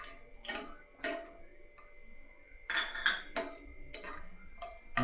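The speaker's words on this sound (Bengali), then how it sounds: "কাজুটা প্রথমে ভেজে নিচ্ছি।" Cashews frying in a pan, with sparse clinks and taps of a utensil against metal set over a low, quiet background of sizzle, the scraping and knocking coming in short irregular bursts.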